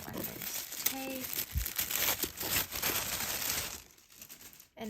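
Tissue paper and tape are pulled away from a Pandora jewelry box, giving steady close crinkling and rustling with a few sharper tears, then a brief quiet near the end.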